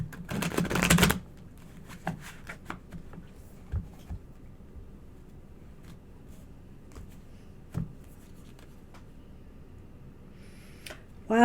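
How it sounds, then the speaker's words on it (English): Tarot cards being shuffled by hand, a brief dense riffle near the start followed by scattered soft taps and card handling over a quiet room background. "All right, one more shuffle."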